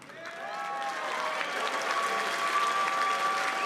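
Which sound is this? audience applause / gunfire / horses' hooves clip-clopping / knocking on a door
audience applause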